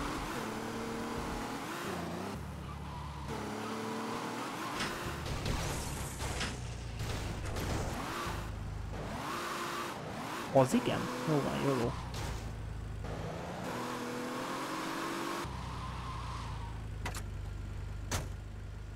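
A stolen car driven in the video game GTA Vice City Stories, its engine revving and surging in uneven bursts with a few thumps, under frequent talk.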